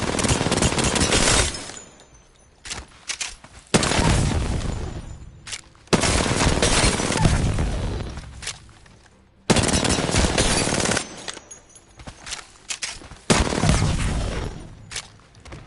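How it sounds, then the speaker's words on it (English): An R-301 rifle fires in Apex Legends, loud, close, sustained automatic bursts, about five long strings of rapid shots separated by short pauses. "The 301 is probably the easiest gun to control in the game, in my opinion."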